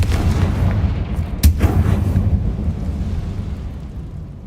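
A Confringo explosion spell in a wizarding video game, heard as a deep rumbling blast with a sharp crack at its peak, booming loudly before trailing off into a low roar.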